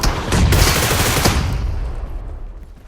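Grenade blasts in the mobile battle royale game BGMI, a loud burst of explosive, gunfire-like cracks and rumble that swells in the first second and then slowly fades into a lingering tail, with no talk.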